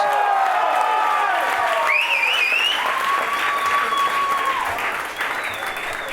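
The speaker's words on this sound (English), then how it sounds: "Give yourself a big round of applause." Audience applause and some cheering at a stand-up comedy special, filling the room steadily, with a few whistles or vocal whoops rising above the clapping.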